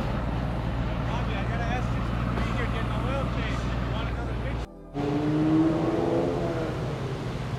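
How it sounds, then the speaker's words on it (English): Exhaust note of a modified 2017 Mercedes-AMG S63 Coupe with downpipes, intake and tune, a steady loud drone that cuts out briefly and returns, with people talking over it. "And of course, you hear the exhaust on this thing."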